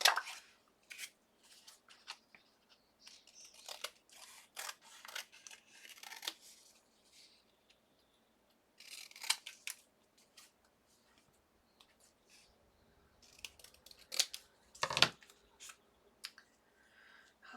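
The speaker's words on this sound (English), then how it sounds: "once I cut the rest of this stuff off" Scissors snip through paper scraps while trimming a mixed media tag, a quiet run of short crisp cuts in bursts separated by brief pauses.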